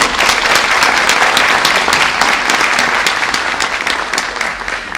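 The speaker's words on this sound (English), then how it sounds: "So would you give them a round of applause already?" A concert audience at a spring honors performance by a kids' orchestra gives loud, sustained applause, a thick continuous roar of many hands that holds steady for five seconds and eases slightly at the end.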